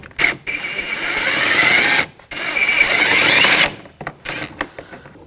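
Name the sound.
ratchet with T30 socket removing a bolt on BMW X5 door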